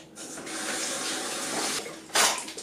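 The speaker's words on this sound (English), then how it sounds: "And I'm just going to wash my veg." Vegetables for a leek and mushroom pie being rinsed under a running kitchen tap, a steady close gush of water that shifts briefly as the stream is disturbed.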